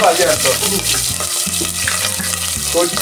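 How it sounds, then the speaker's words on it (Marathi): Mustard seeds and cumin crackle in hot oil as a tempering, a close steady sizzle that runs under a low, droning background. "मोहरी, तडका लगा दिया."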